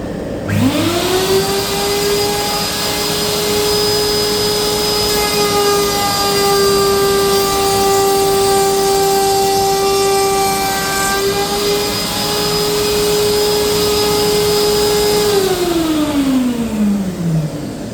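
A router in a router table cutting rabbets in wood: the motor spins up to a loud, steady high whine that holds for about fifteen seconds, then winds down. No one speaks over it.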